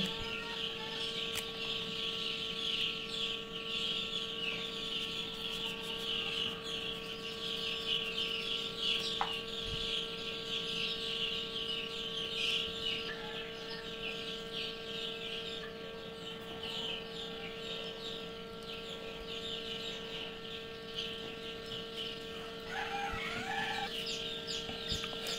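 Baby chicks in a brooder chirp constantly, a dense, high-pitched cheeping chorus at moderate volume, with a steady background hum running underneath.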